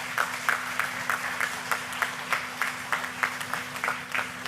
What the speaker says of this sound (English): you may give them a round of applause as well